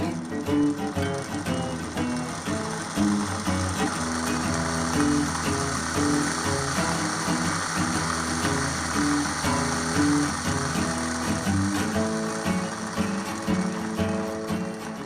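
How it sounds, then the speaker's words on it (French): A homemade electric motor, built from scratch with hand-shaped poles, runs steadily and spins fast, giving a continuous loud mechanical whir with layered harmonic hum and rattling vibration throughout, alone without voices. "Le moteur fonctionne bien, il tourne plutôt vite"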